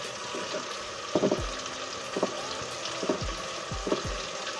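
Mutton being fried with spices in a pan, a steady soft sizzle broken by several stirring scrapes and clinks of a spoon against the metal, close up with no talking.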